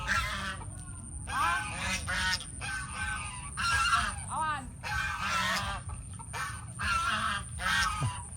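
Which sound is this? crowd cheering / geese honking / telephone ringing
geese honking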